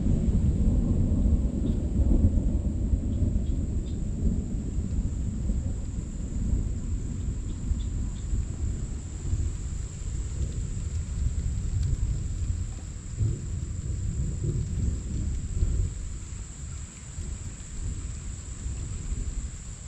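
Steady, heavy rain falls outdoors at a survival shelter building site, with deep thunder rumbling on and off throughout and no voices.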